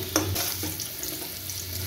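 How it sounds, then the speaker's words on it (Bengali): Potatoes frying in hot oil give a steady, close sizzle with a faint clatter near the start, and no voices. "আমার আলুগুলো সুন্দর করে ভাজা হয়ে গেছে"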